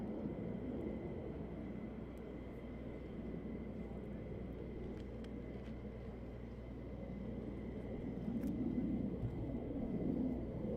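Military jets taxiing on the ground at RAF Lakenheath airbase give a steady, distant engine rumble and hum that swells slightly toward the end, with no clear voices.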